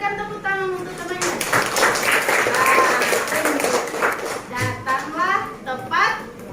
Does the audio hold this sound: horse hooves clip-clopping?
no